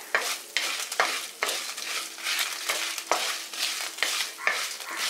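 Garlic cloves, cinnamon, cloves, cardamom, fennel seeds and cumin sautéing in a pan for a Kerala chicken curry, with a steady sizzle broken by repeated scraping stirs, close and fairly loud, no talking.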